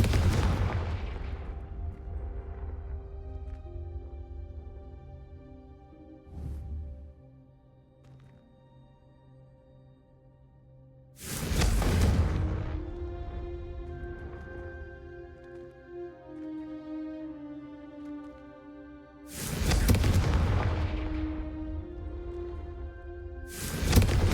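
Three booming fire-spell explosions from the Hogwarts Legacy game, each a loud burst with a long ringing musical tail, spaced roughly ten seconds apart.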